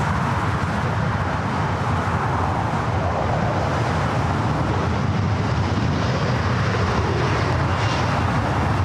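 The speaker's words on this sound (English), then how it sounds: "Sports charter heading to Edmonton, Canada. It's a Delta 757-200." A Delta 757-200 sports charter jet at LAX gives a loud, steady broadband engine roar that holds unbroken throughout.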